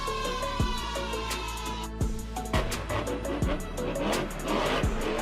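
A Velociraptor Dinosaur monster truck drives in an arena, with a loud, close engine roar and repeated heavy thumping impacts at a steady pace throughout.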